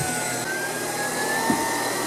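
A Tineco Pure One cordless stick vacuum cleaner runs steadily, a loud, continuous whirring hiss held close up with no talking.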